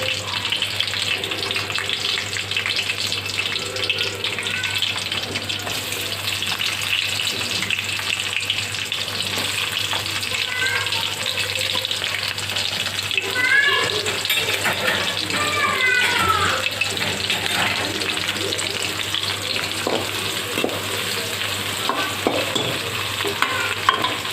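Onion and green chilies frying in a pan for homemade egg fried rice, a steady close sizzle with a spoon scraping and stirring through it, faint water-like hiss underneath, no talking.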